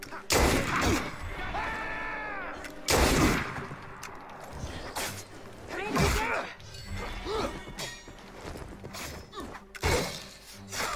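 Gunfire in the video game Assassin's Creed Unity: several loud, sharp shots and crackling bursts ring out amid busy game sound effects, with a voice speaking briefly between them.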